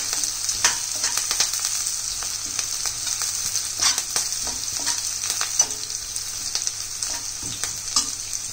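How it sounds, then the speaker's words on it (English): Garlic fries in oil until golden brown for crispy okra kurkure, a loud, dense, crackling sizzle with scattered sharp pops throughout. "till the garlic gets roasted into golden brown."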